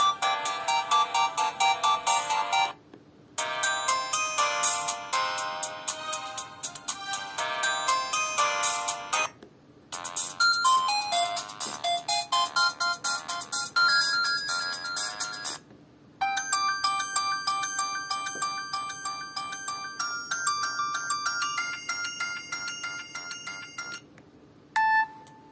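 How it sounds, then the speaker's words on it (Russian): Several polyphonic ringtones on a 2006 Samsung F300 phone, each playing a bright electronic melody for a few seconds, separated by short silent gaps, loud and close with no talk. "рингтоны полифонические."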